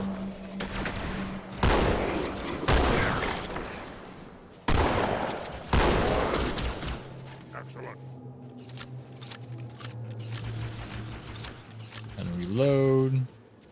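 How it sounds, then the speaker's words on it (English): Gunfire in the game Halo 2: Anniversary cracks out in several loud bursts early on, then the shooting thins to scattered sharper shots under a steady low drone, with a player talking over parts of it. "Someone's shooting at someone."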